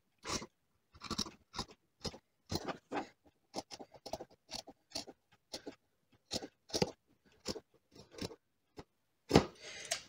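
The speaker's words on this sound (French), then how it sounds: "Donc je viens couper ma pièce que j'ai dessinée." Scissors snip through dark elastane stretch fabric, cutting a doubled sewing pattern piece for a teddy bear, in a quick series of close, crisp cuts at an irregular rhythm, with no talking.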